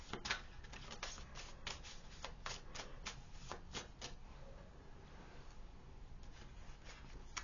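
A deck of tarot cards is shuffled steadily by hand, a continuous papery riffle and patter with repeated soft slaps, close and alone with no talking.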